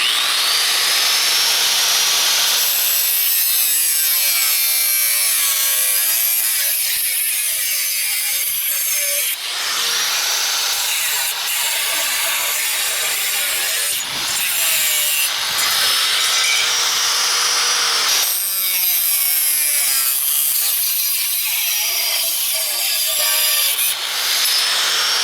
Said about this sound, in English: Now I'm going to take my angle grinder and I'm going to separate these into two pieces and then cut my spike piece off.